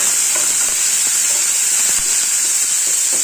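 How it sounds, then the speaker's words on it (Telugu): Spices, curry leaves and green chili fry in hot oil for jeera rice, making a loud, continuous sizzling hiss with faint scattered crackles and stirring, and no talk. "ఇది త్వరగా వేయించాలి. ఇలాగా రెడ్గా వేయించుకోవాలి."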